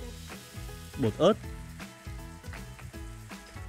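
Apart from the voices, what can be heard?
ground beef with chili powder sizzling while stir-frying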